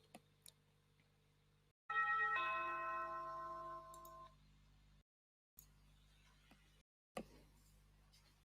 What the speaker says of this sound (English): you can hear doorbell